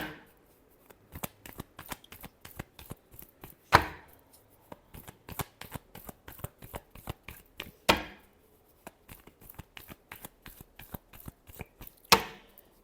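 Tarot cards shuffled by hand: rapid riffling flutters in bursts, each capped by a sharp slap as the deck is squared, repeated three times, close and clear with no talk.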